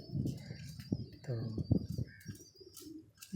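Domestic pigeons in a loft setup coo softly in low, throaty bursts after being given grain and water, with someone talking nearby and faint higher chirps in the background.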